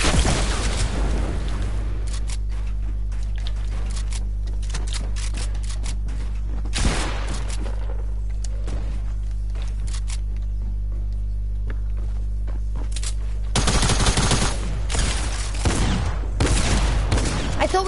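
Gunfire from a gun in a video game, loud bursts of rapid shots at the start and again near the end, separated by a quieter stretch of scattered pops over a constant low hum.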